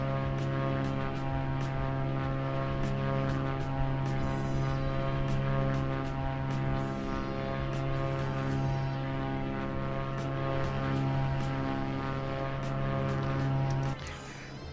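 A small aircraft flying over Virginia City gives a steady, loud propeller drone with a strong low hum, constant and close throughout, then easing slightly at the end.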